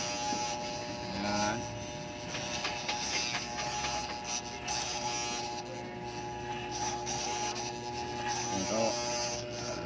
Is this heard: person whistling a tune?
no